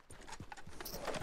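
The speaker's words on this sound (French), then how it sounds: "Notre nouveau cheval." Horse hooves clip-clop at a steady walking rhythm in Red Dead Redemption 2, a quiet series of about half a dozen soft thuds with no talk.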